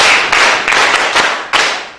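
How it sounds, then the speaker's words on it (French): Close, loud clapping from a class of students in a classroom, coming in a few quick bursts that swell and fade over a couple of seconds. "Applaudissez pour elle."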